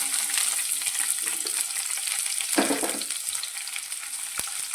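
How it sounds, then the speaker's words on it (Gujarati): Steady oil sizzle from green chillies frying over a low flame, with a brief louder stir or clatter midway, continuous and close. "હવે ધીમા ગેસની ફ્લેમ પર આપણે આ મરચાંને સારી રીતે સાતળવાના છે"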